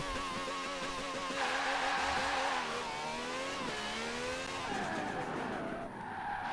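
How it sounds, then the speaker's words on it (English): An Apollo fitted with a racing V12 engine in Forza Horizon 4 screams at high revs, the harmonic pitch climbing and dropping through gear changes, loud and close with tire squeal and no talk. "here's our sound test for the racing V12."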